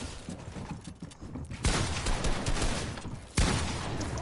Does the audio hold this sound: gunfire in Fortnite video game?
yes